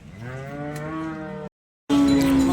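HF cow at a village cattle market giving a long, loud, close moo, followed after a short silence by a second strong bellow.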